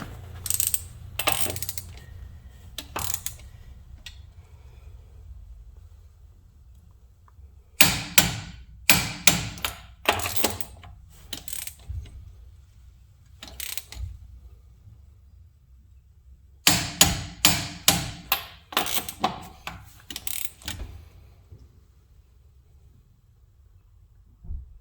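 A torque wrench ratcheting and clicking while tightening lug nuts on the wheels of a Sierra and a Toyota Tacoma SR5, in three bursts of rapid sharp clicks separated by quiet pauses.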